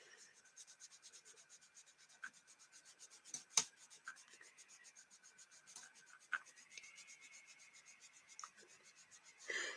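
Danessa Myricks Colourfix makeup swatches are rubbed off skin in a quick, soft, rhythmic back-and-forth friction, close and quiet, with a couple of sharper taps, while a person talks in the background.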